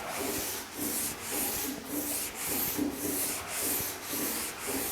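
A sanding block rasps steadily back and forth across a 1950 Chevy truck fender in about eight even, rhythmic strokes, close and fairly loud with no talking.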